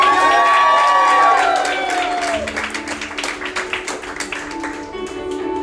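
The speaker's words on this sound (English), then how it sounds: "big round of applause, please, for Mr. and Mrs. Rodolfo and Leticia Japlet" Wedding reception guests in Honolulu clapping and cheering as music fades, a loud, dense crowd applause with scattered whoops, up close and continuous.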